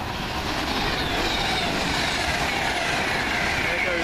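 Class 350 passenger train 350 122 passing through Cheddington on the line from London Euston, a continuous rushing roar with clattering wheels and faint squeal, steady and fairly close throughout.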